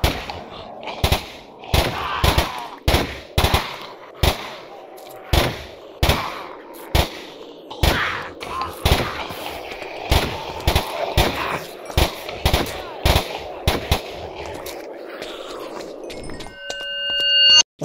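Repeated single and burst shots from an AUG automatic rifle ring out at night in a zombie survival game, sharp loud cracks spaced irregularly over a steady ambient bed, ending with a rising electronic tone.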